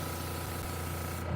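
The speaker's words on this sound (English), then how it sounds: "Cameo pink can go in the airbrush. Let's just spray out." Airbrush spraying cameo pink paint onto a realistic smallmouth swimbait lure, a close, steady hiss of air and paint with a compressor hum underneath, cutting off near the end.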